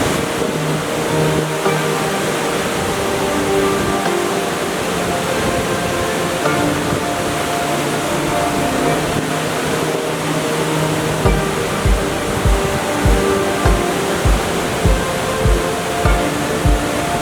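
Rathna Ella waterfall in Sri Lanka, a loud continuous rush of falling water, with a series of low thumping knocks in the last few seconds.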